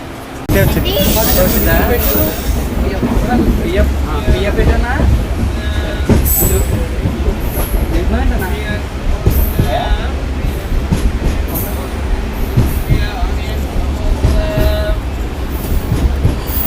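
Palnadu SF Express, an LHB-coach superfast train, pulls into a station with wheel squeal, clanking and rumbling carriages, loud and close, with people talking and station noise around it.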